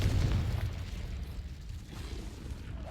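Confringo fire-spell explosion in the Hogwarts Legacy video game, a fairly quiet, muffled boom at the start that trails off into a low rumbling wash.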